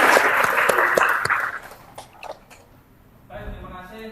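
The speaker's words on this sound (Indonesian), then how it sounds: "tepuk tangan untuk kalian semua" Students in a classroom during a green chemistry lesson clap for a moment, a brisk burst of hand claps that dies away within a second or two, followed by a brief voice.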